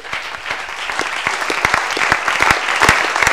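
A church congregation claps together at a seminar on deliverance from emotional wounds, steady crowded applause with sharp individual claps, continuous and close for a few seconds.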